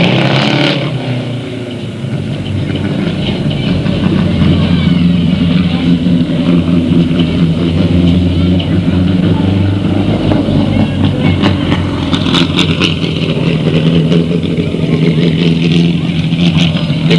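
Vintage BCRA midget race cars, one with a 1970 Benson Chevy 2 engine, roar around the oval at Delta Speedway, loud engines rising and revving continuously as cars pass.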